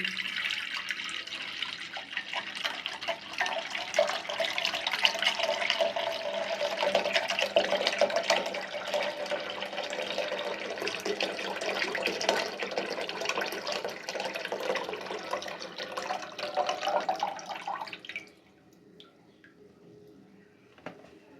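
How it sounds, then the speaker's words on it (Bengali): Farm-fresh milk pours steadily into a pot for a Bangladeshi lachcha semai recipe, a continuous close liquid splash and gurgle lasting about eighteen seconds before stopping abruptly, leaving faint room quiet. "এখন আমি দুধটা ঢেলে দিচ্ছি।"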